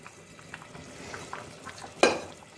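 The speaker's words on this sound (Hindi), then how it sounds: "पतीला उबलने लगा" Steady bubbling and sizzling of a pot of rice boiling hard, with a sharp hiss or splash near the end as it spills over.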